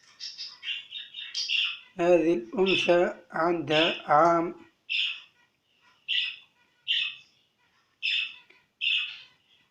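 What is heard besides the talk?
budgerigar chirping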